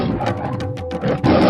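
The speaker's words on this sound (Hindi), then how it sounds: "तदनंतर देवी के सिंह ने भी बड़े जोर जोर से दहाड़ना आरंभ किया।" A lion roars loudly and close in one sustained, throaty blast that swells and breaks before a second surge near the end, with no talk over it.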